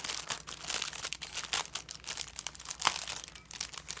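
A small cellophane bag crinkles as it is handled and opened, giving a soft, continuous crackling and rustling with a few sharper pops, close and quiet, with no voice.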